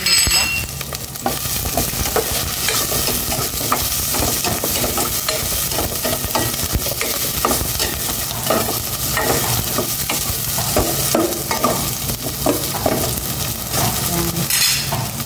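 Garlic, onion and chili sautéing loudly in a hot pan, a dense continuous sizzle with frequent spatula scrapes and light clinks of metal against the pan, no talking.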